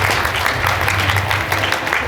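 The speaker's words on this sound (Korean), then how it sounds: "박세니 대표님 따뜻한 박수로 모셔보죠" Warm applause from an audience at a Korean reading-and-workplace awards event, welcoming a guest lecturer to the stage; steady dense clapping fills the whole stretch with no voices over it.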